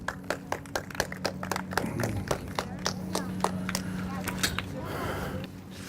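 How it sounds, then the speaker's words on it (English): Scattered clapping from a small group at an outdoor kids' safety camp, a round of applause for a young girl from the Red Group, with sharp individual claps spaced out over a steady background hum. "Give her a round of applause."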